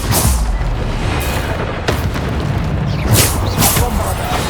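Bombarda spell explosions in the Hogwarts Legacy video game, several booming blasts and sharp bursts in quick succession, loud and close, mixed with chaotic combat effects.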